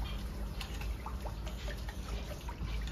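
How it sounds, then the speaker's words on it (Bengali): Water poured into a cooking pot, a steady trickling splash with some higher drips, heard close over a constant background hum, no talk. "জলটা দিয়ে দিই।"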